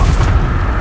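Confringo blasting spell explosion in Hogwarts Legacy, a single loud, deep booming blast that fills the short moment with heavy low rumble and no voices.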